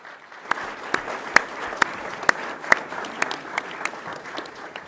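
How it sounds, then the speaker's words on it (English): Applause from an audience, with sharp individual claps standing out in an uneven rhythm over a softer bed of clapping. "One more round of applause, please,"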